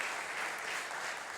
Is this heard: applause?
yes